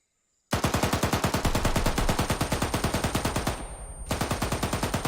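Gunshots in Arma 3: a loud, near automatic weapon fires a long, steady, rapid stream of shots, breaks off briefly, then resumes, with no talking.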